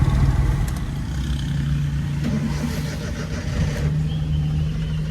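A Suzuki Every van, freshly overhauled with new valves and valve guide seats, runs on a test drive with a steady low engine drone, a faint whine and road rumble throughout.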